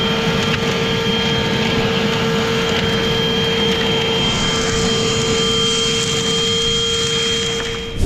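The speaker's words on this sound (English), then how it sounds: "I have 3 batteries for the vacuum today" A battery-powered vacuum runs continuously for gold prospecting along the Fraser River, a loud steady whine with a constant high tone and a broad rushing roar, close up with no talking.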